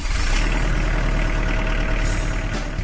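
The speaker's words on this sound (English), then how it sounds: "That's the sound of a Kubota Standard L compact tractor" A Kubota Standard L compact tractor's diesel engine chugs loudly and close, a heavy, continuous knocking rumble holding steady without any voices.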